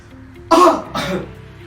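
Two close, sharp coughs from a male COPD patient during a physiotherapy breathing exercise, the first harder and the second softer, in a quiet room.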